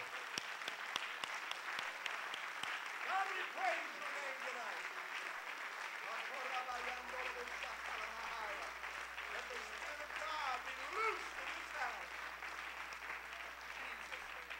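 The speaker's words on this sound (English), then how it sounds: "Clap your hands and bless the name of the Lord with me right now" A church congregation claps their hands together in sustained, dense applause that keeps going from start to finish, with voices mixed in.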